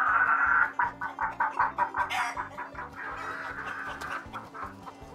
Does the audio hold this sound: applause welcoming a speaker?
no